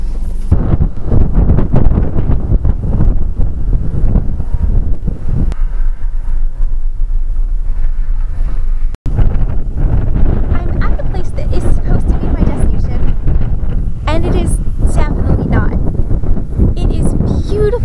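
Heavy wind buffets the microphone in loud, continuous rumbling gusts while camping in desert wilderness at Sand to Snow National Monument, California, with a brief dropout midway and a voice talking faintly underneath.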